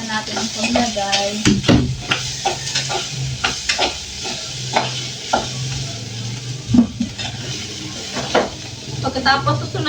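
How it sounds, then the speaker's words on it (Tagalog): Garlic and onion sautéing together in a pan, with a continuous hiss and sizzle broken by repeated clanks and scrapes of a spatula or spoon against the metal, close and fairly loud. "At ngayon magigisa na po tayo. Ito ang bawang sibuyas."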